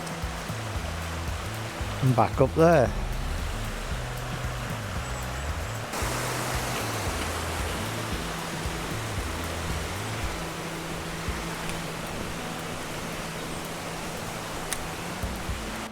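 A river flows through Chee Dale in the Peak District, its steady broadband rush continuous and fairly close, with a person speaking briefly early on over the water.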